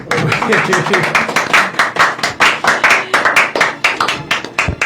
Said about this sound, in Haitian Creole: Oh, petit applaudissement.